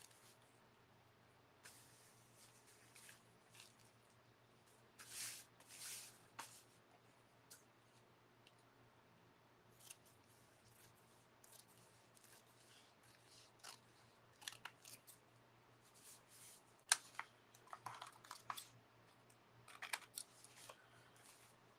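Scissors snipping through thin paper napkin backing, quiet, intermittent bursts of short cuts with pauses between, over a faint steady hum in a still room.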